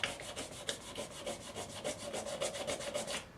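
A hand guard is rubbed back and forth with 400 grit sandpaper in quick, even strokes, a close, steady rasping rhythm that stops abruptly at the end.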